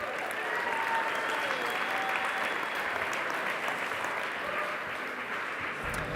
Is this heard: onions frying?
no